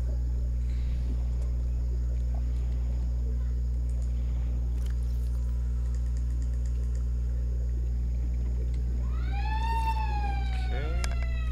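A person out on the street imitates a police car siren with a few rising and falling wails near the end, faint and distant under a loud steady indoor hum.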